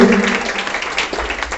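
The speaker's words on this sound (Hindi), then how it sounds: "एक बार पुनः जोरदार ताली बजाएंगे हमारे कलाकारों के लिए।" At a Republic Day function, an audience claps for the performers in a short burst of applause, with a voice talking over it near the start.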